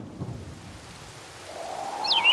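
Rain and thunder sound effect played on an MK-5000 electronic keyboard, a soft hissing wash with a low rumble and a rising tone toward the end, fairly quiet and without talk.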